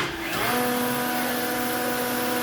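A Delta jointer spins up in a home woodshop, a loud, steady motor whine with a constant hum that holds evenly after a brief start.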